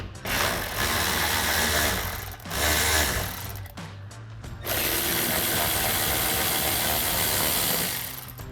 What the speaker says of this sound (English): So we'll grab an 8mm socket for our bolts